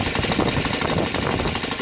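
An OS FT 300 model engine converted to full gasoline with ignition runs near idle as its throttle is eased down, giving a fast, continuous, close-up rattling buzz with no talking.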